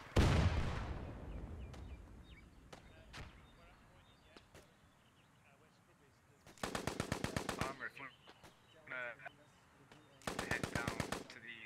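Machine gun fire in the World War II video game Post Scriptum: a heavy blast opens, then isolated distant cracks, and two long rapid automatic bursts rattle loudly later, with faint radio-like chatter between them.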